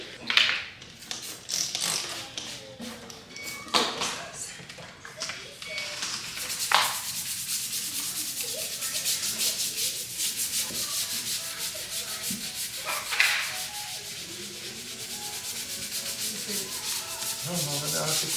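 A stiff grout brush scrubs grout stains with OxiClean in a steady, close, rasping back-and-forth rhythm that runs continuously, briefly easing near the start.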